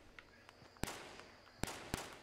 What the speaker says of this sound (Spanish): Escucho disparos igual.